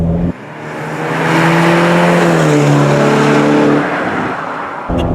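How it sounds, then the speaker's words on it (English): A turbocharged Ferrari California T accelerates hard, its engine note rising loud and close through a gear change and holding strong for several seconds before easing off. "I love the acceleration. It's incredible how fast it is."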